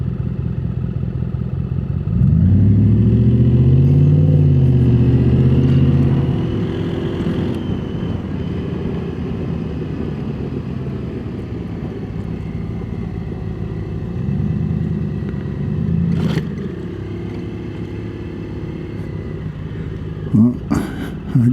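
A big truck's engine rumbles in traffic at a stoplight, heard up close from a scooter behind it. The deep, loud idle surges and rises early on, then settles into a lower rumble with some clatter.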